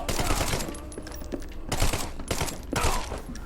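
A Tommy gun fires in long, loud bursts in the video game The Sinking City, rapid rattling fire in three bursts with brief pauses between them.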